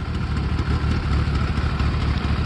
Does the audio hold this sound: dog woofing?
no